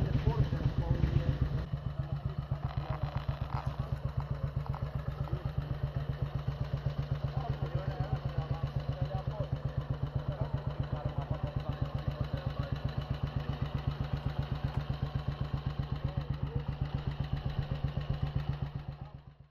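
A 1940s-era motorcycle with a sidecar runs steadily at a low, even throb, close and continuous throughout, with faint clatter over the engine before it cuts off at the end.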